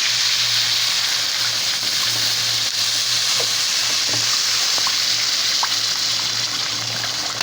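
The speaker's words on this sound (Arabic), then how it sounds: "هنحط اهو الميه" Water poured into a pan of cooking rice, a steady loud hissing sizzle with bubbling and trickling that runs unbroken throughout, with no talking over it.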